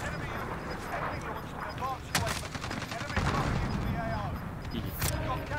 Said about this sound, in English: Why are there so many missiles?